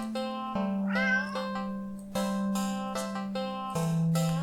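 A black cat in an indie horror video game meows repeatedly, several clear, close, tonal calls with rising and falling pitch, spaced about a second apart over a steady low hum, with no talking.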